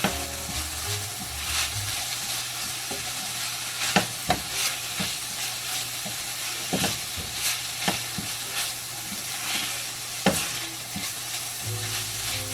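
Qeema mince cooking in a pan over medium heat, a continuous close sizzle and fry with occasional scraping stirs and clinks, no voices.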